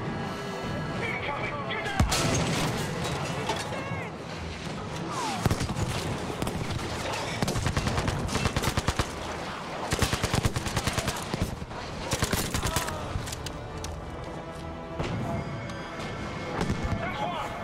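Cannon fire in the video game Battlefield 5 booms repeatedly amid dense gunfire and battle noise, with sharp loud blasts scattered through a continuous din and someone talking over it.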